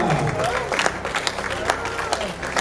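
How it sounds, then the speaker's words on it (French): Audience clapping in the hall of a web awards ceremony, a brief burst of moderately loud applause mixed with crowd noise, with someone speaking over it. "Laissons pas encore applaudir très fort dans la salle."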